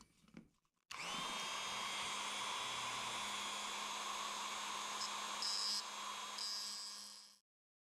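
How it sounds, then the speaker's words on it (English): A Dremel rotary tool grinds down part of a Midwest Industries Alpha handguard for an AK-47, a steady high-pitched whine that starts abruptly after a short pause and runs continuously for several seconds before cutting off, with brief changes in pitch as it bites. "If it doesn't, grind this part down right here. You can use a small hand file like this. I'll be using my Dremel."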